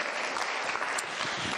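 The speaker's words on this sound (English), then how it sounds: "That deserves a round of applause, doesn't it?" Steady applause from an audience at a talk on executive presence, a dense, even wash of clapping that stays loud throughout with no voices over it.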